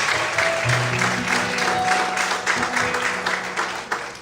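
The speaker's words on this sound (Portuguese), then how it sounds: "Quantos podem aplaudir e exaltar ao Senhor essa noite?" A church congregation claps during an evening worship service, fairly loud and continuous, with a faint low hum or music underneath.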